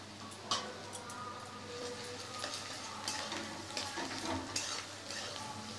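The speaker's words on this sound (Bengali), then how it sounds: "এবার এটা একটু ভালো করে ফ্রাই করে নেব" Grated garlic and onion fry gently in a pan, making a quiet, continuous sizzle with occasional light stirring clicks and scrapes, fairly faint, over a low background hum.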